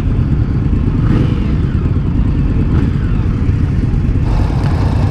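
A 2018 Indian Scout motorcycle on a test ride, its engine a steady, loud, close rumble with a couple of brief throttle rises, mixed with wind noise and no talk.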